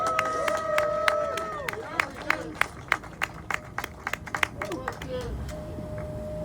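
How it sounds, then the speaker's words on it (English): Scattered claps and a few voices at a press conference on restoring a slave exhibition, brief sharp hand claps spread unevenly over several seconds against a murmur of the gathered crowd. "so please give my Jewel a round of applause."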